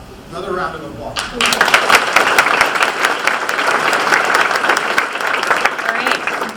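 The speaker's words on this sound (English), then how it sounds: "Another round of applause" A university town hall crowd claps for staff celebrating 35 years of federal service. It begins with a brief voice, then dense, loud applause from many people starts and carries steadily to the end.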